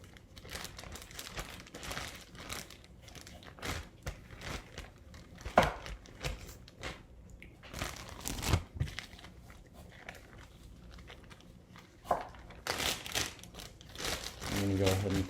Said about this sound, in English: We're going to wrap it, put it in plastic wrap